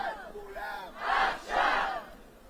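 A large crowd at a Tel Aviv rally for the release of hostages chants in rhythmic collective shouts, two loud swelling bursts following quieter voices, heard at a distance across the gathering.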